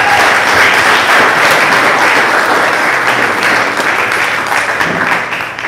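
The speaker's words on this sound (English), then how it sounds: "a round of applause for that" Loud, dense applause from a workshop audience fills the room, a sustained wash of many hands clapping together that tapers slightly at the end.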